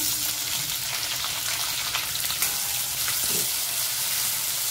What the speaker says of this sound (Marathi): लसूण आपली चांगली लाल झाली, त्याच्यात हा कांदा टाकते मी।